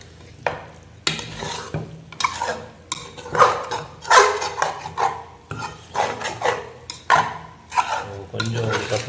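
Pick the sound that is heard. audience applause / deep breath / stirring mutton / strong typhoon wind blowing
stirring mutton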